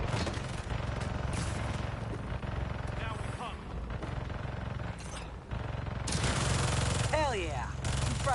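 Turret gunfire in Marvel's Spider-Man 2, continuous rapid machine-gun rattling held at a steady level with brief dips, joined by whooshing swoops and a voice talking over the din.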